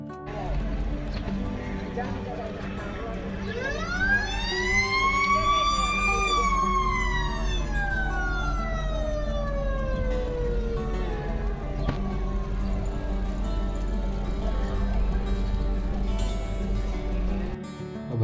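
A river launch sounds its horn on the Turag River in Dhaka, one long, loud, wavering blast that bends upward and then slowly slides down over a constant low engine rumble.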